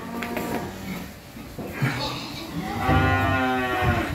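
Cattle at a farm lowing, with several drawn-out moos, the longest and loudest near the end, mixed with people talking nearby.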